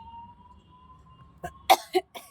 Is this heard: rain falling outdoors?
no